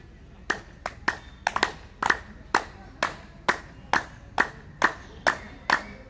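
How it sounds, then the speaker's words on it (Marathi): A person doing daily exercises for senior citizens claps their hands in a steady rhythm of about a dozen sharp, close claps spaced roughly half a second apart. "टाळ्या"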